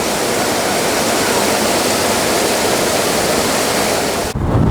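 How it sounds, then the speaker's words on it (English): Water spilling over a small dam at Crosswinds Marsh in Wayne County, Michigan, on a windy day: a steady, loud, close broadband rush like a waterfall, continuous without pauses, then abruptly dropping and changing near the end. "the water, when it goes too high, it runs off this dam and goes here and goes under this bridge."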